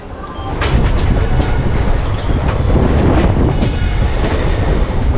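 A Teesta Torsha Express passenger train leaving Naihati Junction rumbles steadily along the tracks, loud and close, with a continuous roar and faint rhythmic clatter of wheels on rails.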